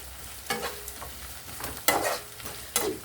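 Ginger garlic paste frying in a pan for a brinjal and Malabar spinach curry, with a steady low sizzle broken by several sharp stirring scrapes close by.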